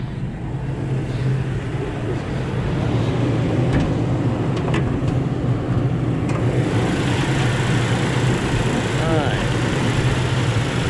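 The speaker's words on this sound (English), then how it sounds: "Now, the truck's running, and the door's open" A 2018 Toyota Tacoma TRD pickup with about 10,961 miles idles steadily with its door open, a low even engine drone running throughout, with a few faint clicks and a brief chime partway through.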